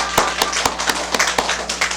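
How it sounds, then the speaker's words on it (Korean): Children at an elementary Sunday school gathering clapping in welcome, a burst of many hands applauding in a room with sharp, uneven claps that keep going throughout. "우리 다 같이 환영하는 박수 한번 해보도록 할게요"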